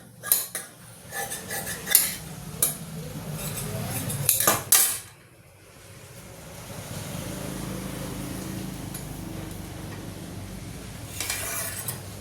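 Scissors cut through blouse fabric in a run of crisp, close snips and clacks for about five seconds, then the cutting stops and only a low, steady background hum remains, with a brief snip near the end.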